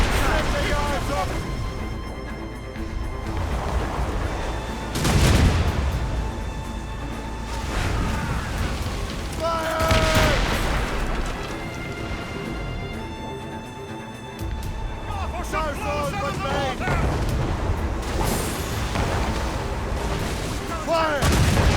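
Ship cannon fire in Assassin's Creed Rogue booms in heavy blasts spaced a few seconds apart over rushing sea and ship noise, with crew voices shouting in between.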